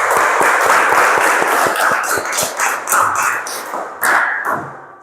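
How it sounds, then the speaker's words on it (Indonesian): A class of students claps hands together in a loud, close burst of rapid, uneven claps that thins into a few scattered final claps near the end. "Oke, tepuk tangan"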